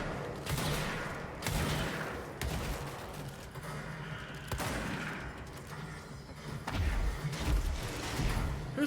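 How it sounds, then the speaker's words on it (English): Missile launches and impacts in a PS4 video game thud and whoosh in repeated bursts, moderately quiet amid a continuous rumble of game action. "Now people are throwing missiles!"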